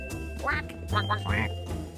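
Several cartoonish duck quacks come in a quick, bright run, part of a playful farm-animal counting game for children, with other voices and sounds around them.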